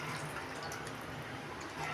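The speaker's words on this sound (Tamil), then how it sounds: "கறி மசாலாவோடு வதங்கிடுச்சு இப்போ தேவையான அளவுக்கு தண்ணி ஊற்றிக்கிறோம்" Water is poured into a pan of chicken masala gravy for a Maharashtra dhaba-style chicken curry, giving a soft, continuous splashing and trickling hiss at low volume throughout.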